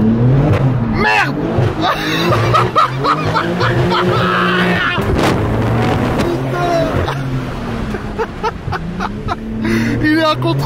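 A car skids and its engine revs hard in repeated bursts, loud and close, while excited voices shout over the tire noise and roaring motor.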